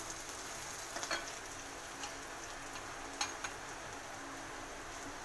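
Chilies and garlic frying in oil for tomato chutney, a continuous soft sizzle with a few faint ticks and stirring clicks, quiet and close, with no talk.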